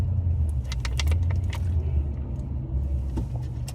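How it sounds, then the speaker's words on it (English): Road traffic passing near a riverside spot, a steady low rumble of cars that holds throughout, with light rattles and jangles on top. "there's a lot of traffic"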